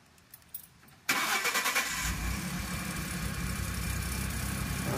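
Ford F150 engine cranking and firing up after an exhaust flex pipe repair, a few faint clicks before the start, then a loud, steady idle rumble that settles and continues close by.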